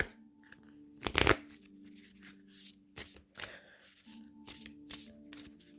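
Oracle cards being shuffled and drawn by hand: a loud riffling burst early on, then scattered softer flicks and slides of cards against a low steady hum, with no talking.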